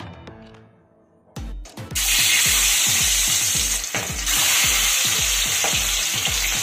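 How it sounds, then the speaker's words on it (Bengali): Pieces of soft aar fish drop into hot mustard oil a few at a time and burst into a loud, sustained sizzle after a quieter start, with a rhythmic musical beat running underneath. "এই মাছ কিন্তু বেশ নরম, তাই একসঙ্গে সবগুলো মাছ আমি ভাজলাম না, আমি 3টে করে ভেজে নেব।"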